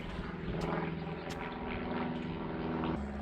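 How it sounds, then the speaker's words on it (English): A propeller aircraft passes overhead, a droning engine hum with steady tonal whine that holds for a few seconds before dropping away, heard outdoors near a house where a pickup truck is being washed. "It's always a plane."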